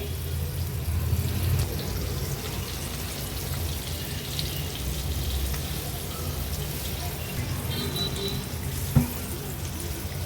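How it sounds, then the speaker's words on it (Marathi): Ribbon fish pieces coated in rice flour frying in oil on a tawa over medium flame, a steady crackling sizzle throughout, close and moderate, with a single sharp clink near the end. "अशाच पद्धतीने एक एक करून सर्व तुकडे मी तेलामध्ये सोडते"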